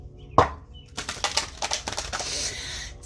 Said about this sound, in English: we're going to do one more shuffle, and then I'll pull these cards